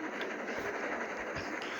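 A train rolls along in the Roblox game Dead Rails, a steady dense rumble with faint rhythmic clacks throughout, fairly loud and without talk.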